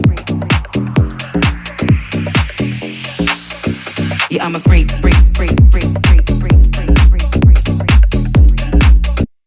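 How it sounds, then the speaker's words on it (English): Minimal tech electronic track with a steady four-on-the-floor kick pulse and clicky hi-hats, thin at first and then filling out with heavier low end partway through; a brief spoken phrase surfaces near the start. "We have a minimal tech track"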